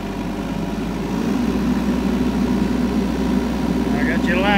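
A Mini X mini excavator's engine drones steadily near the listener as it is throttled up, building slightly in loudness, with a faint whine toward the end.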